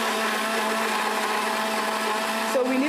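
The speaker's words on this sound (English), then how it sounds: "we are going to close our blender and start blending" An electric blender running at speed on a vegan mix, a loud continuous whirring whine that holds steady, shifting pitch briefly near the end as the load changes.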